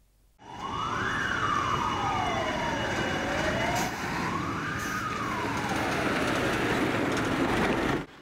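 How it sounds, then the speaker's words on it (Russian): Emergency siren sounds during a city fire drill, a loud wailing tone sweeping up and down in two long slow cycles, close and continuous with no speech. "В 10:00 на улицах города раздался звук сирены."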